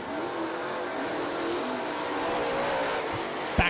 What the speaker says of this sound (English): And there is the green flag. Jeff Swanson waves it in front of our 3 cars on the racetrack